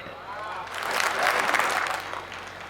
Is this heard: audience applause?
yes